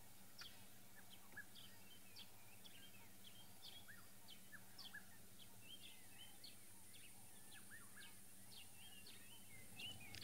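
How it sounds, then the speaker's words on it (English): Birds calling outdoors on a safari, including a Cape turtle dove and a black-headed oriole: many faint, scattered chirps and short whistled calls, mostly distant, over a low steady background hum, with no talking. "I can hear the Cape turtle dove. I could hear the black-headed oriole in the background."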